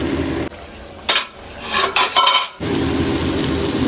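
Okra fries in a pan with a steady sizzle, broken midway by a few clinks and scrapes of a utensil stirring against the metal.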